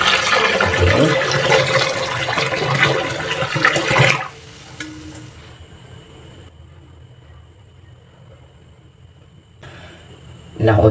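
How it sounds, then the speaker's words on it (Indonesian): Boiling water poured over used coffee grounds, a loud rushing, splashing pour for about four seconds that cuts off abruptly, leaving quiet room tone before a brief noise at the end. "ini kita siram dengan air mendidih ya"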